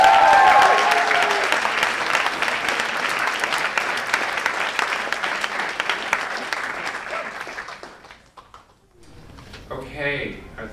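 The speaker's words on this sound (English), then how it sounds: "Let's have a round of applause for" Audience applause at an awards ceremony as judges arrive, a dense sustained burst of clapping that fills most of the clip before tapering off, with a faint voice and a few lighter claps at the end.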